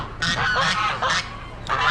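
Geese at an Amish animal auction honk loudly and close by in a few harsh, nasal calls that come in quick bursts over a low barn murmur.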